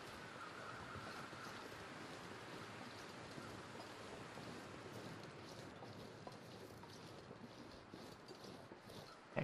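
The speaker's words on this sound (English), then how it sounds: "I need to get out of this wind so I'm actually warm" Cold wind gusting across a frozen wilderness in The Long Dark, a steady, broad rushing roar that holds evenly throughout with no voices.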